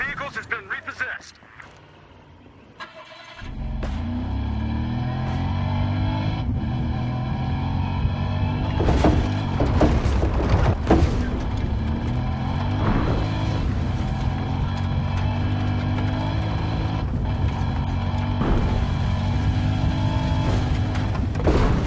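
A car in the video game Battlefield Hardline starts with a quiet stretch, then its engine hums loud and steady with rising revs and gear shifts. Voices and game sounds come through on top of the engine.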